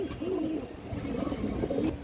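A caged pigeon gives a run of low, rolling coos, close and clear over a faint background hiss, with several coo phrases across the stretch.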